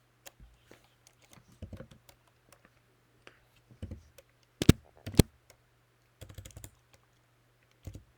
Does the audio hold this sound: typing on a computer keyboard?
yes